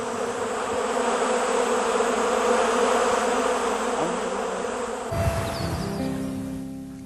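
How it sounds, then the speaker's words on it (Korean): Honeybees give a loud, dense, continuous buzzing drone, close and unbroken, before it gives way to a quieter stretch with steady held tones. "꿀벌은 분류학적으로 막시목에 속하는 벌 무리 가운데 식물의 꽃에서 꿀을 채취해 먹고 사는 꿀벌과의 곤충으로서"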